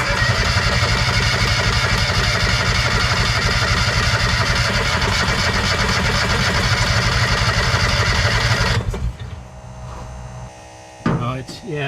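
A Kawasaki Mule 2510 utility vehicle engine runs loud and steady with a droning, buzzing hum for several seconds while flooding, then cuts out, leaving quieter clicks and handling sounds nearby.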